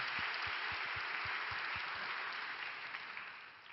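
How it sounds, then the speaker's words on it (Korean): A church congregation at a young adults' worship service claps together in sustained applause, a dense even wash of hands with a few low thumps, tapering off near the end. "우리 하나님께 영광의 박수 올려드리겠습니다."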